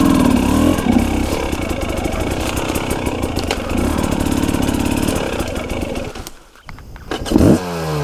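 A KTM 300 two-stroke dirt bike engine revs and bogs through swamp mud and over logs in the bush, its rough buzzing drone rising and falling up close before briefly dropping out, then sputtering back with a sharp rev.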